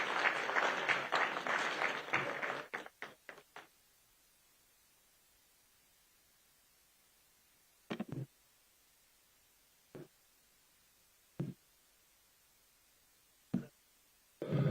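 Audience at a health conclave applauding to welcome a minister as chief guest: a dense burst of clapping for about three seconds that thins out, then a few isolated faint claps scattered later.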